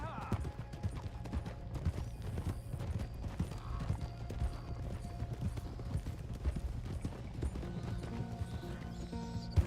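The hooves of a thoroughbred horse in Red Dead Redemption 2 clip-clop in a steady, continuous rhythm under dense game ambience, with faint voices mixed in.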